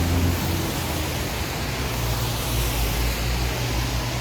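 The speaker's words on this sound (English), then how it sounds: "It's very loud. I need to get off this main road here to a quiet side road." Loud, steady roar of heavy traffic on a busy main road in an urban area, a continuous wash of engine and tire noise heard close by from the roadside.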